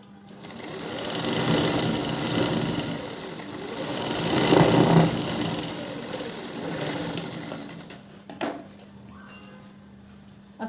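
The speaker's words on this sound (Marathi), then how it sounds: "एकदम काठेवरून शिलाई मारायचं म्हणजे फिनिशिंग दिसेल" Sewing machine running in steady bursts while stitching close along the edge of a blouse, a rhythmic mechanical whirr that swells and eases, with a few small clicks near the end and no talk.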